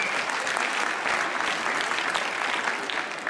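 Dense, steady audience applause fills a dance competition hall, a continuous wash of clapping from a large crowd with no break.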